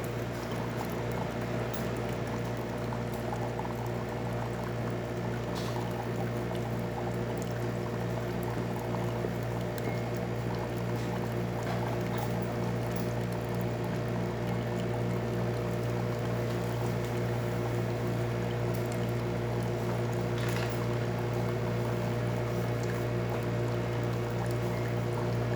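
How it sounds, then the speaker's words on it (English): Breville Barista Touch espresso machine pouring hot water, a steady hissing, bubbling flow over a constant low pump hum that runs unchanged for the whole span at close range. "Now the hot plate is gonna heat up, and then it's going to deliver hot water just like so."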